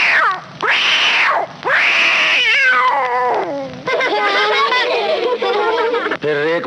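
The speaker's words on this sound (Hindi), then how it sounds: "और टोकरी में एक बिल्ली का बच्चा" A kitten mewing in a Hindi children's rhyme, a string of loud, drawn-out high meows, close and clear, with sung or spoken voices joining toward the end.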